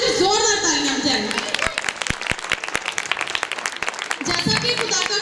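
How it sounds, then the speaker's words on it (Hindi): A church congregation at a children's home gathering claps loudly and steadily, sharp individual claps standing out, while a speaker talks over the start and end. "उसकी शान में जोरदार तालियां बजाएं।"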